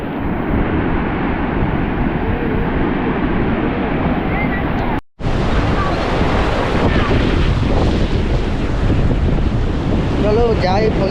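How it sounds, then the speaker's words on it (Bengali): Sea waves crash onto the beach at Mandarmani in a loud continuous roar, mixed with heavy wind buffeting the microphone and a brief cut midway, while people talk over the surf. "এত ঢেউ আসছে"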